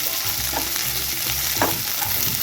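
Vegetables and spring onion sizzle steadily in a hot pan, with a few scrapes of a spatula stirring them up close.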